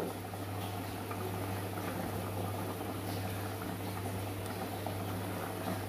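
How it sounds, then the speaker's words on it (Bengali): Water comes to a boil in a cooking pot for mutton tehari, a steady, even bubbling hiss with a low constant hum beneath, continuous throughout. "জল ফুটে গেছে"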